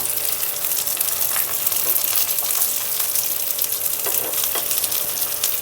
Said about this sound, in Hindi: देखिए मस्त गोल्डन फ्राई हो जाएगा